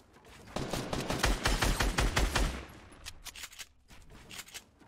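A dense burst of rapid gunfire in Fortnite Battle Royale rattles for about two seconds, loud and close. Scattered shots and echoing cracks then trail off.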